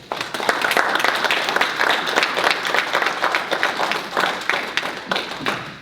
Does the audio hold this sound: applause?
yes